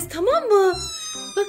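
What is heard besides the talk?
kitten meowing while being bottle-fed milk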